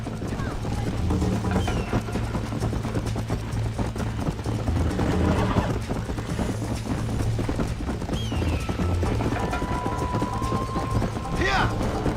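Horse hooves gallop in a steady, rhythmic clip-clop throughout a Red Dead Redemption video game ride, with a brief whinny and faint background effects; people talk over it.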